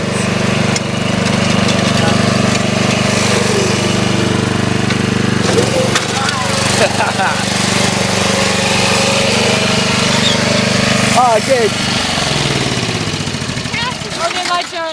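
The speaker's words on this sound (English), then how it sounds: "This has been the lawnmower of awesomeness." A lawn mower engine drones loud and close with a steady low rumble for most of the stretch, then winds down near the end while voices speak briefly over it.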